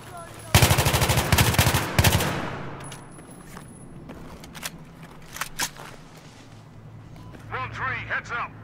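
Full-auto weapon fire in Battlefield 3, loud rapid bursts up close from about half a second to two seconds, then scattered single shots and quieter clatter, with a voice speaking later.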